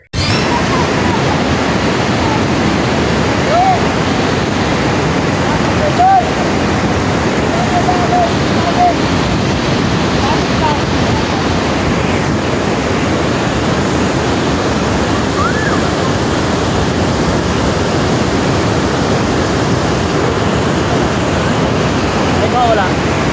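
Strong, fast-moving water and waves roar in a loud, continuous, unbroken rush up close, a dense wash of noise that stays steady throughout.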